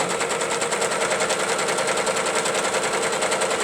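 A sewing machine stitches a free motion quilting design with a fast, even, continuous rattle that holds steady, close and loud, and no one speaks.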